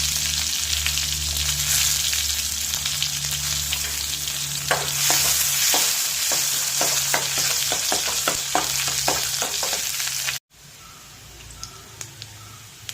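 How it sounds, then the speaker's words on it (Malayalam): Chopped shallots fry in hot oil with popping mustard seeds, a loud continuous sizzle broken by sharp crackling pops, then a sudden drop to quieter frying near the end. "കടുക് പൊട്ടി തുടങ്ങിയിട്ടുണ്ട്. അരിഞ്ഞ് വെച്ചിരുന്ന ചെറിയ ഉള്ളി ഇട്ട് കൊടുത്ത്"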